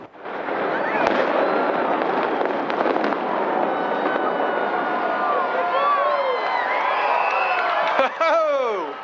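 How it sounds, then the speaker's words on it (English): Crowd of onlookers gathered outside to watch the 28-story Capitol Plaza Tower implode, with a sustained roar of voices, a sharp blast-like crack near the start, and whistles and cheering rising over the din until near the end. "The 28-story Capitol Plaza Tower imploded Sunday afternoon as a large crowd gathered to watch the spectacle."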